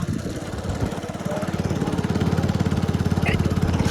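In a tochan tug-of-war pull, a motorcycle engine labours with fast, even, thumping firing pulses that grow steadily louder and heavier, close at hand.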